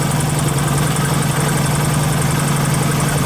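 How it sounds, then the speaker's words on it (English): Motorcycle engine misfiring from an electrical fault in its electronic ignition, a steady loud running drone close by with an uneven, unsteady beat and no talk. "as the bike misfires, which tells me that there's an electrical fault with the electronic ignition"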